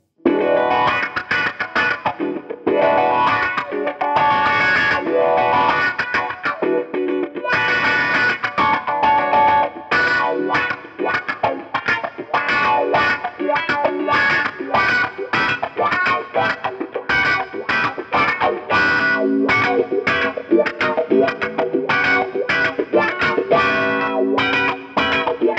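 An electric guitar plays through a new effects pedal on its L setting, giving a thick, deep-toned distorted and modulated sound with strummed chords and riffs, loud and continuous with no talking.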